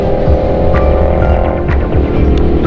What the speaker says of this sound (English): You can see this bike's fifth gear just goes right up the hill